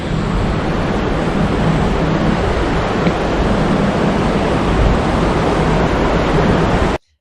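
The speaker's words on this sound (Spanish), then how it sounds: "Y por aquí pasa el río Cares." The Cares river flows through a mountain gorge in northern Spain, giving a steady, loud, unbroken rush of water that fills the whole stretch with no voices over it.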